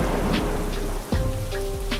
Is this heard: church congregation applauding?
no